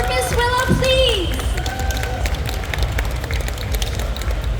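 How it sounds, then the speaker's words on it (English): A pinup pageant audience at a tattoo expo applauds Miss Willow, a steady round of clapping and crowd noise beneath a speaking voice at the start. "A round of applause for Miss Willow, please."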